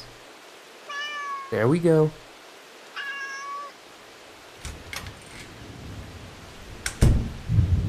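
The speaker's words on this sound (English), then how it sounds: "That cat is so annoying." A house cat meows twice in a quiet room, the calls close and clear, followed by a spoken remark and then soft rustling and knocking sounds.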